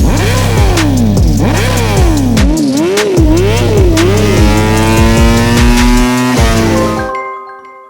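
A high-revving Ducati Panigale V4 SP2 sport motorcycle with race exhaust on a dyno screams through rapid rises and drops, then holds a long climbing wail before cutting off; loud and close, no voices.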